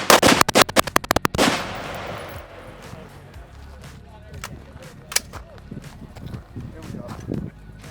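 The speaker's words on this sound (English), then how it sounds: "That's the second time I've shot the Cardinal." A burst of rapid, sharp rifle shots from a Cardinal rifle at an outdoor shooting event cracks loudly in the first second and a half, followed by scattered distant shots while people talk.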